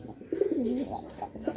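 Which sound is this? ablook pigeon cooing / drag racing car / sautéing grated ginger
ablook pigeon cooing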